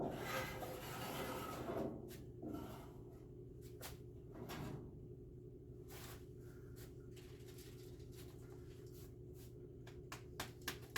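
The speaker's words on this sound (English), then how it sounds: "right along this bend here, where I'm going to hit it with the cheese grater" Hand body file, a cheese-grater rasp, scraping filler along a bend in the bodywork of a square body Chevy truck, with broadband scraping strokes in the first few seconds, then scattered short rasps and taps over steady background noise.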